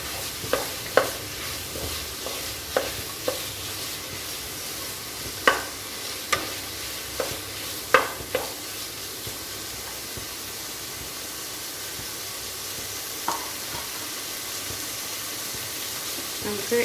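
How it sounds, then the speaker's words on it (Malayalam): Tomato and onion masala sautés in a pan for egg biryani, a soft continuous sizzle broken by scattered scraping clicks of a spoon stirring, quiet and close. "അതും നല്ലപോലെ ഇളക്കി കൊടുത്തുകൊണ്ടിരിക്കുക"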